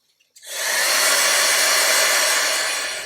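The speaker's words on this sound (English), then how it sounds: "I'm going to grab my heat gun." A heat gun switches on after a couple of faint clicks and blows hot air over a handmade gothic mini book craft project in a steady, loud, close whoosh that holds to the end.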